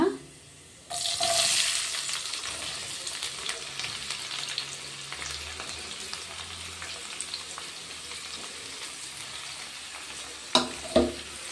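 Onion dropped into a hot pan after garlic for onion and tomato masala paratha bursts into a loud, close sizzle that settles into steady frying, with a couple of stirring knocks near the end.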